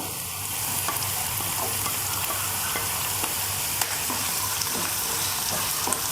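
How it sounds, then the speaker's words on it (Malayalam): Onion, green chilli and ginger sautéing in a pan: a continuous loud, even sizzle with faint scraping stirs and occasional small pops. "ഇതിലേക്ക് ഉള്ളി ഇട്ട് കൊടുക്കാം ഒപ്പം പച്ചമുളകും ഇട്ട് കൊടുക്കാം"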